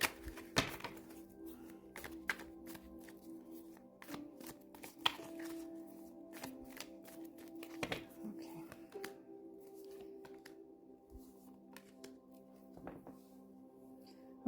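Tarot deck being shuffled by hand, a faint, irregular flutter of card riffles and soft taps and thunks against a table spread across a quiet stretch, with a low steady hum underneath.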